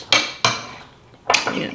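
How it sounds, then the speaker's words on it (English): Spoon scraping and clinking against a mug while mixing mug cake batter, three sharp close strikes with a pause between, no talking. "So I'm just going to mix, as I mix this really well,"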